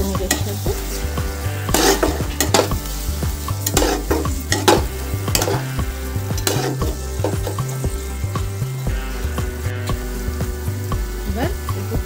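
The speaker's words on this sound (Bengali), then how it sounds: "গরম মশলাটা ভালো করে আমি মিক্সড করে দেবো পনিরের সাথে।" Garam masala being stirred into paneer bhurji in a pan, a steady scraping and clinking of the spatula over a continuous sizzle, with regular rhythmic strokes throughout.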